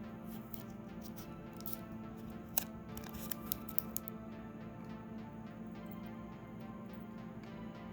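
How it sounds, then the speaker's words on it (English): Adhesive tape is pulled and torn during an electronics kit build, giving quiet crackling strips and a couple of sharp ripping ticks over a faint steady background hum. "Bit of tape."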